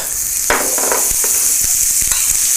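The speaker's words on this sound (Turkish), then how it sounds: "ve soğanlarla birlikte kavuruyorum." Sliced onions fry in butter in a pan, a loud continuous sizzle broken by scraping stirring strokes.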